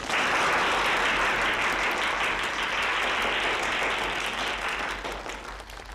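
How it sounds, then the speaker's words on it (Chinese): A factory crowd gathered for the propaganda team's final day claps in welcome for the director, a loud full burst of many hands that holds steady, then thins and fades toward the end. "咱们掌声欢迎"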